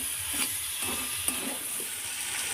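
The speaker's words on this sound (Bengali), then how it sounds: "এবার হলুদ আর লঙ্কার গুঁড়োটা ভালো করে মিশিয়ে নিচ্ছি।" Turmeric and chilli powder being stirred into cauliflower stems frying in a pan, steady oil sizzle with soft scraping strokes of a spoon every half second or so, close, no talking.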